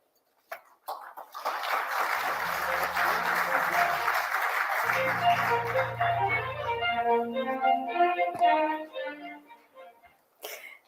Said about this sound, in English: D.Y. Chandrachud, to share his thoughts and after your warmest claps, to give the Ramnath Goenka Awards for Excellence in Journalism.